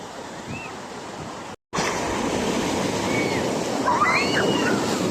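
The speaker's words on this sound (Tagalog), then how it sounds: "Lakas ng alon guys, oh. Mga kaarte, malakas ng alon." Strong ocean waves at a beach in Bungkay, Batangas make a steady, loud wash of surf that rolls on continuously, with a brief dropout partway through.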